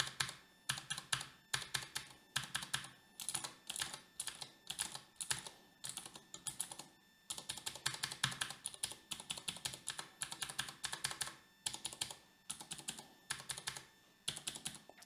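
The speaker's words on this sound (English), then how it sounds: "this is the sound with the standard keycap" Someone types on a keyboard with standard keycaps in a plastic case: quick, close clacking bursts in an irregular rhythm separated by short pauses, with no talking.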